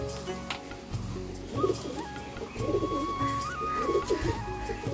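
Madras pigeons coo in low, throaty bursts, several rolling phrases close by and fairly loud, with some rustling between them and no speech.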